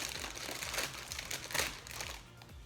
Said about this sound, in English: we're going to open the Fruit Loops,